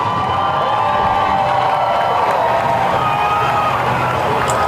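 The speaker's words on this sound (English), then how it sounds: "The crowd absolutely loving it." A large outdoor crowd at a beachside monster truck show cheers and shouts in a steady, loud wash of voices that runs unbroken from start to finish.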